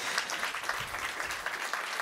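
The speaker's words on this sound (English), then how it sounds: "Round of applause for Felipe." An audience at a tech summit applauds a speaker named Felipe: steady, dense clapping from many hands fills the room at an even level, with no voices over it.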